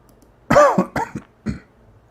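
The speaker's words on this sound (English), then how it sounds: "Sorry for coughing." A person coughs several times in a quick burst, close and fairly loud, followed by one last short cough.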